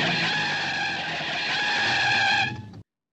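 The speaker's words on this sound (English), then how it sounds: "A screech of brakes drew him to the window" Car brakes screech in a long, loud, steady squeal lasting a few seconds near, then cut off abruptly.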